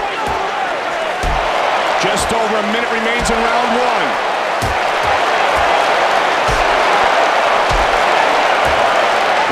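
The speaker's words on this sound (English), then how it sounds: "What a great reaction from the crowd." A roaring arena crowd cheers steadily through a UFC 2009 video game bout between Rampage Jackson and Forrest Griffin, with dull thuds of strikes and a commentator talking over the noise.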